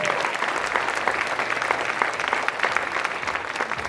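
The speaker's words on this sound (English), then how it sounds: "the mere announcement of the words Jake Wood warrants all of our deepest gratitude and applause." Audience applause at a bodybuilding competition's opening ceremony, a steady wash of many hands clapping throughout, fairly even in level with a crowd murmur beneath.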